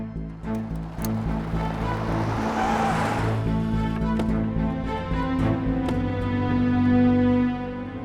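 Steady engine hum and road rumble from a car driving, constant and moderately loud, with a low tonal drone and a brief swell of wind or passing noise midway.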